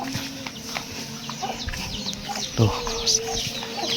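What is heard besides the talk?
chickens clucking around a traditional village house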